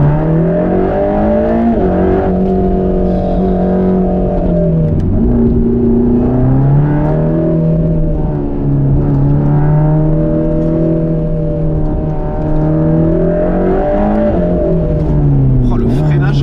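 A Mercedes-AMG GT Black Series engine pulling hard from inside the cabin, its steady loud drone rising and falling in pitch through gear changes, with someone speaking over it.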